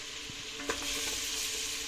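Steady sizzle of a chopped dry onion frying in oil, with a few soft scrapes and knocks of a spoon stirring the pot, close by.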